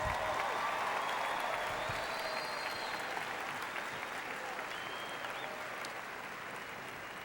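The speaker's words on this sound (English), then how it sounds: "Let's give the top 20 academic graduates a big round of applause." Steady applause from a large audience at a 2013 high school graduation ceremony for the top academic graduates, sustained dense clapping heard from a distance that slowly tapers over several seconds.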